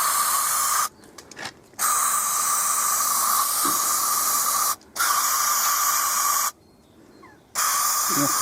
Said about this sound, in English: I'm going to spray some carburettor cleaner in there